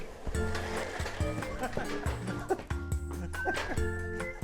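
Old homeless dogs being trained to pull a sled bark in a rapid, uneven series of close, loud barks, some overlapping, with little pause between them.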